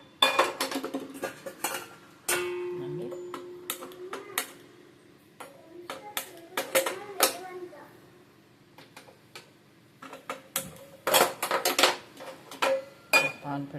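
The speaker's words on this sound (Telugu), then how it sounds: "ఇప్పుడు పాన్ పెడుతున్నాను." Scattered metallic clanks and clinks of a pan being set down and handled on a kitchen stove, arriving in irregular bursts with quiet gaps between them and a faint tonal ring.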